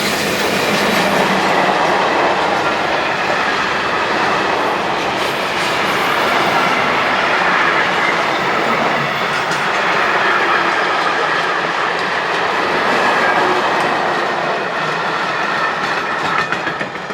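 An eastbound freight train hauled by three locomotives rumbles past close by, a loud, continuous roll of wheels with rhythmic clickety-clack and faint squeals for the whole stretch.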